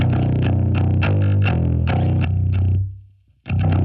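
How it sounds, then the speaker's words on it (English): A bass guitar runs through a boosted Green JRC overdrive plugin, giving a loud, gritty, distorted tone as a steady run of plucked notes plays, fades into a short gap, then resumes. "Green JRC overdrive from Avid"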